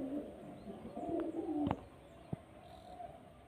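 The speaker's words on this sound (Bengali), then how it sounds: "একদম ডিপ চোখের পায়রা" A single deep-eyed pigeon lets out one clear low coo close by, followed by a couple of faint clicks in an otherwise quiet room.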